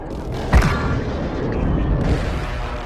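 Precision air strike in Call of Duty Warzone Mobile, a deep boom followed by rumbling explosions under a continuous roar of game ambience.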